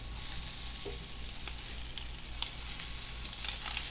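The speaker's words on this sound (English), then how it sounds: "Look at those sizzle." French toast sizzles steadily in a hot pan, a constant crackling hiss with occasional small pops, close and unbroken.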